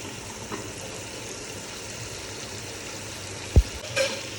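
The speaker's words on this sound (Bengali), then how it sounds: "একটু মশলার মধ্যে কষে নিচ্ছি মাছটাকে।" Snakehead fish being sautéed in a spice paste in a pan, with a steady, soft sizzle throughout and one sharp clink of a utensil near the end.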